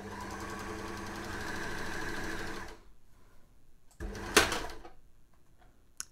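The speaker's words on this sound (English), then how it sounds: "we're going to head straight to the overlocker to sew the seam" An overlocker runs a steady, fast mechanical whir as it sews the crotch seam of knickers at a 1 cm seam allowance, then stops. A sharp knock follows and a click comes near the end.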